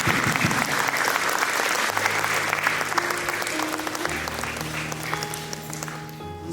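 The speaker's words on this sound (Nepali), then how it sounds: "सबैजना खडा भएर हामी जोरदार ताली बजाएर उहाँलाई स्वागत गर्नेछौँ वचनको लागि" A standing church congregation at a worship summit session applauds loudly to welcome a pastor, dense steady clapping filling the hall while music begins to rise beneath it toward the end.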